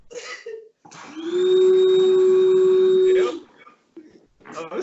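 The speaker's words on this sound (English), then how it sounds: "It just started to vacuum out of nowhere." A vacuum cleaner starts up and drones steadily at close range for about two seconds, then cuts off, with people talking before and after.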